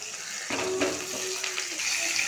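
Potatoes fry in hot oil that has been seasoned with bay leaf, nigella seeds and green chillies, a steady close sizzle with scraping stirs and soft clatters.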